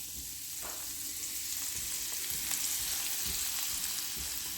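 Garlicky butter melting in a pan with pork, a steady close sizzle and hiss running unbroken throughout with faint crackles.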